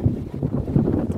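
Strong wind gusts through swaying trees in the Canadian outdoors, a steady low rumbling rush that swells and dips without pause, close and fairly loud.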